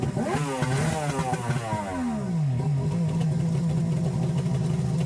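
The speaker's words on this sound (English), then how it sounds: "rev the engine a couple times to blow it out" A 2003 Yamaha GP1300R jet ski fitted with a Riva Racing free-flow exhaust, revved a couple of times then dropping back to a steady burbling idle, close and loud with no talk.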